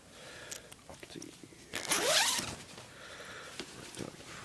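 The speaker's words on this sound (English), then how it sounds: "Turtleneck zip." A zipper on an army parka liner is pulled in one quick, loud rasping stroke, close to the microphone, with quieter rustling of fabric before and after.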